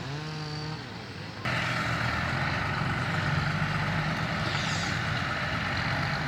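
A farm tractor pushes over large trees on a sugarcane and cassava plot: a low, whining engine note at first, then a sudden louder, steady diesel roar that holds close and continuous.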